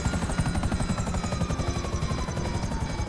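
A GTA Online helicopter in poor condition drones with steady, rapid rotor chop, loud and close throughout, with no voices.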